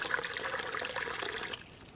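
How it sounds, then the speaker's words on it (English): Water is poured into a container for a drink while backpacking at Hope Lake, a close, splashing trickle that runs for about a second and a half, then stops abruptly, with no talking. "I'm just going to put a decent amount of water in here for the beverage."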